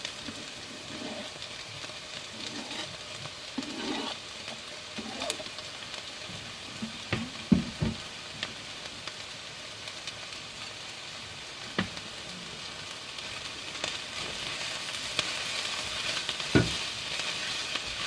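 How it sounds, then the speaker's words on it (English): Onions and garlic sweating in about six tablespoons of olive oil for a Bolognese sauce, giving a continuous close sizzle with scattered clicks and pops from stirring and no talk. "We are now sweating up the onions in about 6 tablespoons of olive oil."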